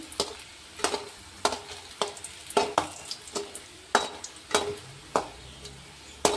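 Snacks shallow frying in a pan under a soft steady sizzle, punctuated by about a dozen sharp, regular clicks of a spoon against the pan as the pieces are turned, with no speech.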